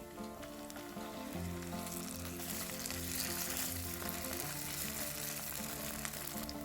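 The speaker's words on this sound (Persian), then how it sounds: "وقتی کمی طلایی شد، یه قاشق رب بریزید و تفت بدید تا رنگش باز بشه." Steady, close sizzling of tomato paste frying in a hot pan, continuous throughout with a bright crackle and no talking.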